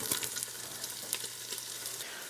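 A medium diced yellow onion lands in a hot soup pot and sizzles steadily, a close bright crackle with scattered pops and no voices.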